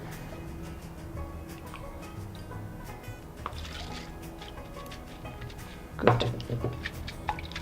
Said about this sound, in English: now I'm just going to wash the fruit off the berries